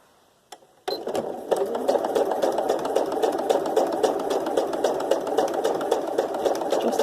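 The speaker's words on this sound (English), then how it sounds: "So I'm just going to sew down there." A sewing machine stitching along the edge of cotton fabric with white cotton thread, starting after a brief click and then running steadily with a fast, even mechanical patter, close and clear.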